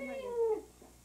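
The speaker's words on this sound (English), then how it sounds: "Oh, get the cat, right here." A house cat gives a single short meow, fairly close and clear, with a falling pitch and a quiet tail.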